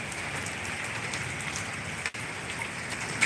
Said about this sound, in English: that's why it's raining